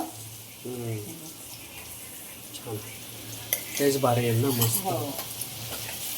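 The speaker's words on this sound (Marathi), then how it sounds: "हे वाटप घालते आपलं गोड्या मसाल्याचं कांदा आणि खोबरं जे आपण भाजून बनवतो ना" Onion and coconut masala paste, the roasted base of a home-style goda masala curry, is added to a hot pan and sizzles with stirring, the frying hiss rising partway through over a faint steady hum.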